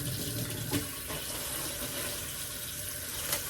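Tap water runs steadily into a sink while kale, an apple and ginger are rinsed for a raw green juice, a continuous close splashing hiss with no talk.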